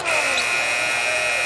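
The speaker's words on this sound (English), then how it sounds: "Isaiah Mucius beats the buzzer." A basketball game buzzer sounds at the end of a period, a loud, harsh sustained electronic drone filling the whole clip over arena crowd noise.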